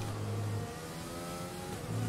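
An F1 race car engine in F1 2020 revs high and sustained on track, a loud, continuous whine that dips slightly in the middle before swelling again, with no speech.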